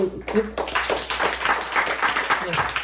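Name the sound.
audience applause after a graduation concert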